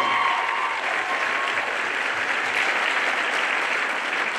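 An audience at a crowning ceremony applauds steadily, with dense, loud clapping that holds at an even level throughout and no voices standing out.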